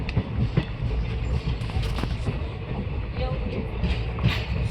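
An Indian Railways passenger train rumbles along the rails with an uneven clatter of wheels, close by, arriving at Khijadiya station in Gujarat, while someone talks over the noise.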